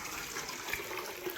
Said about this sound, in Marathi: आंघोळ करतोय.